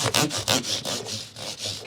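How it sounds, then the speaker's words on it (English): Guitar frets on a Fernandes ZO-3 are rubbed briskly with StewMac polishing cloths, giving close, rhythmic back-and-forth scrubbing strokes about four per second, alone without talk. "a couple StewMac polishing cloths here. Just going to hit the frets."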